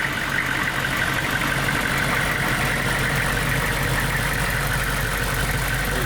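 The diesel engine of a 1999 GMC school bus idles with the hood open, a steady, loud rumble with a faint rhythmic knock, continuous and close, with no talking.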